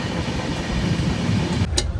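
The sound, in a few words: Double Decker Express train 22708, Tirupati to Visakhapatnam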